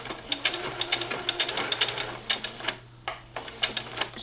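A sewing machine stitches velcro onto a pillow with a rapid, close mechanical clatter, a steady needle rhythm broken by a short pause and a few lighter ticks.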